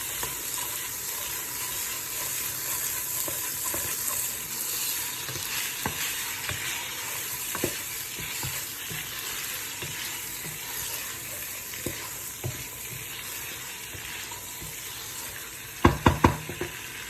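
Vegetable rice being stirred as it fries in a pan, with a steady close sizzle, scattered utensil scrapes against the pan, and a few sharp knocks near the end.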